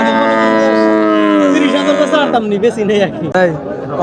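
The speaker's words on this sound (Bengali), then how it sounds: "বন্ধুরা দেখেন বিশাল বড় দেহের গরু" A large HF cross cow at a cattle market lets out a long, loud, drawn-out low call that falls in pitch, followed by nearby talking and crowd chatter.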